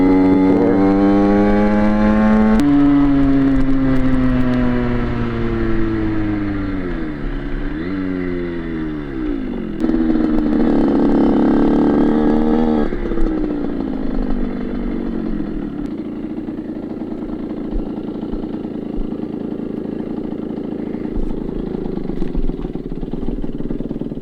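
A Derbi Senda off-road motorcycle engine running near and loud, revving up and down in several swells before settling into a steady uneven idle, with no talk.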